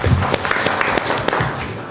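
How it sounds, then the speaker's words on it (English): Audience applause at a corporate event honouring a hotel and resorts CEO, a dense, steady patter of clapping close by that runs for about two seconds. "Let's give a applause."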